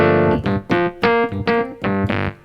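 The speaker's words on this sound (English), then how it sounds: "Let's go to Rhodes number 5, 67 Rhodes Bright" Yamaha CP88 stage piano on its bright '67 Rhodes electric piano setting plays a funky riff of chords and bass notes, about six separate hits with ringing tines that fade between them, clear and close with no voices.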